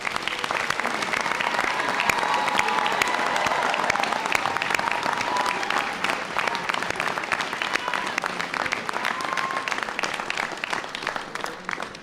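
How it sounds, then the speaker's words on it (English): Sustained applause fills a large hall at a university winter graduation ceremony for business school graduates, a dense, steady wash of many hands clapping that holds evenly before tapering slightly at the end. "please can I ask everyone to join me in a round of applause for our graduates this afternoon"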